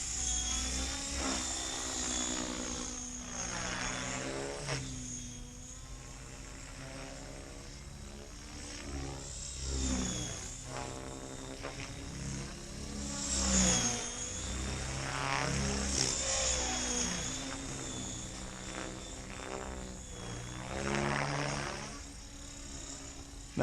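A Blade Fusion 550 stretch-kit RC helicopter flies outdoors, its high rotor whine and buzzing motor drifting nearer and farther with a wavering pitch that swells and fades repeatedly, moderately loud and steady throughout.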